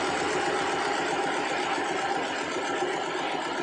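A Yulin 2105 rice mill engine runs steadily after its pump plunger adjustment, a continuous close, even diesel chug with fast regular pulses and no talking.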